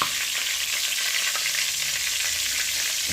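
Turmeric and curry seeds frying in hot oil for a Jamaican curry corned beef, giving a steady, dense sizzle that fills the whole stretch without pause, close and even, with no voices.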